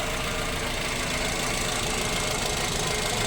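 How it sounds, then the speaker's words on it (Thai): A Toyota Yaris 1.5-litre VVT-i car engine idles steadily with a dense, even mechanical hum and a faint knocking texture, close and constant throughout. "ไปดูห้องเครื่องยนต์กันดูเครื่องยนต์เป็นไงบ้างทุกคน เครื่องนิ่มนะทุกคน เงียบนิ่มนะครับ"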